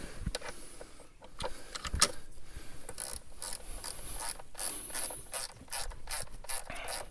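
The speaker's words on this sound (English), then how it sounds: "Then you can put the ratchet on and tighten it down." A ratchet tightening down a power steering reservoir on a 2002 Dodge Caravan: close, steady ratcheting clicks run through the whole stretch with brief pauses, plus a sharp metallic tap partway through, and no voices.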